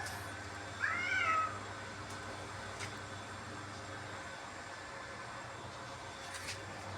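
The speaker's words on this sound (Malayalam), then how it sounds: "ആ പൂച്ചകളൊക്കെ ഓടി വന്നു കണ്ടില്ലേ" A single short meow rings out near the start, then only a quiet, steady background hum remains with faint distant sounds.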